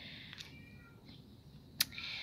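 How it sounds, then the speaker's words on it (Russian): A cat meowing indoors, a couple of short faint mews spread across the moment with a sharp click near the end and quiet room tone. "Вы слышите, мяукает?"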